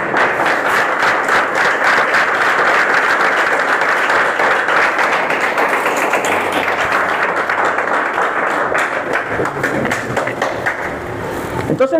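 Loud, sustained applause from a church congregation fills the whole stretch, dense and steady before thinning slightly near the end, with voices mixed into the crowd.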